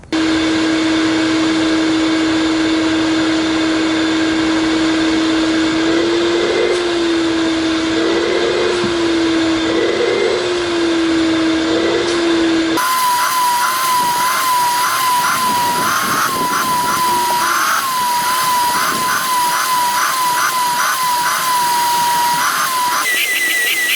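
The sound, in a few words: shop vac vacuuming car floor mats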